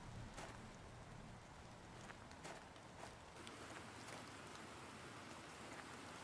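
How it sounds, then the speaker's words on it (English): Steady rain falls in a Mars terraforming video game, a soft, even hiss of drops with occasional faint patters, quiet and continuous with no talking. "Oh, it's raining."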